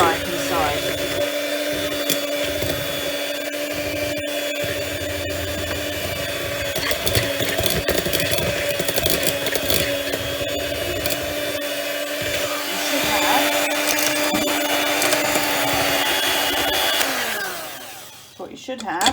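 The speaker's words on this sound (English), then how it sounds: "I'm just going to whisk that up" An electric whisk beats a sugar mixture to white, glossy peaks with a steady, loud motor whine that continues throughout and then winds down at the end, with no voices.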